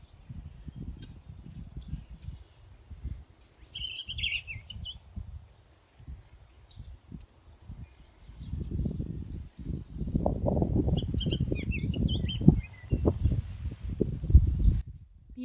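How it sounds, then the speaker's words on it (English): Birdsong in a county park, including a Bullock's oriole and other birds, comes as scattered high chirps and short song phrases at moderate distance over low rustling and handling noise. "See if we can pick up on the bullock's oriole that's singing."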